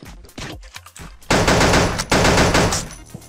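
Rapid automatic gunfire from the mobile shooter game Pixel Gun 3D, starting with scattered bursts and then turning into a dense, loud, continuous barrage of shots that lasts until near the end.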